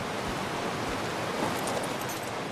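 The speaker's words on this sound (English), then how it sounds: "There's a waterfall over there." A waterfall in the video game ARK: Survival Ascended, on The Center map, makes a steady broadband rush of falling water. It runs loud and unbroken for the whole stretch, with no voices over it.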